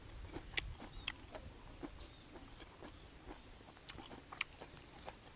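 Someone chewing crunchy squid tentacles seafood, with scattered soft crunches and bites at close range over faint background noise, no talking.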